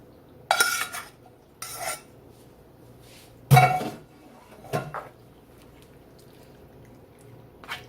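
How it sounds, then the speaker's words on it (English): Rigatoni noodles dropped into a cooking pot, a few separate clattering bursts of hard pasta rattling against metal, close and alone, with quiet gaps between. "now you're going to add your noodles in there now"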